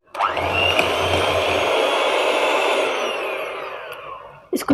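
Electric mixer beating cake batter with baking powder for a mawa cake, a loud steady whirring drone that runs for several seconds, eases off, then ends with brief clatter.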